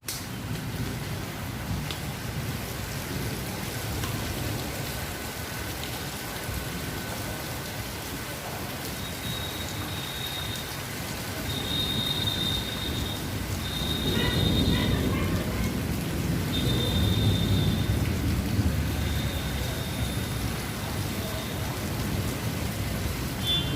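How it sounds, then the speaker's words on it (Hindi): Heavy monsoon-style rain pours steadily outside on a dark afternoon, a dense continuous hiss with a swell of deeper rumble midway that may be distant thunder, plus faint tonal chirps above. "मैं आपको दिखाती हूँ हमारे यहाँ कितनी तेज़ बारिश हो रही है।"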